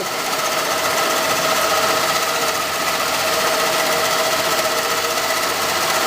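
A milling machine cuts a slot through workpiece with a 6 mm cutter, emulsion coolant applied: a steady, dense, loud grinding whir with a constant high whine, continuous and unbroken throughout.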